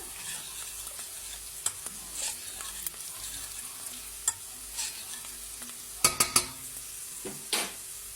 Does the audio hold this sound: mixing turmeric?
yes